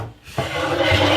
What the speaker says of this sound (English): Now I need to trim this insert down to size.